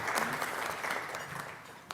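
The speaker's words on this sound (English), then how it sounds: "So we really applaud." Audience applause at a Rotary club meeting, a steady wash of clapping hands from a crowd lasting the full two seconds, fairly even in loudness without voices.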